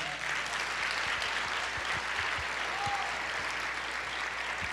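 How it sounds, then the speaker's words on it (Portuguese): A church congregation applauds during a worship service, a continuous, moderately distant wash of many hands clapping that holds steady throughout. "Pode aplaudir o Senhor."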